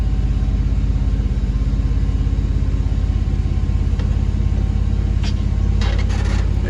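Shop truck Betty rolling over bump stops with a heavy, steady engine rumble close by, a few brief knocks and clunks near the end.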